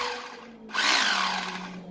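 A household drill running in hammer mode with a nail-driving head attachment gives a steady hum, then bursts into a harsher, louder rattling buzz partway through that carries on without a break.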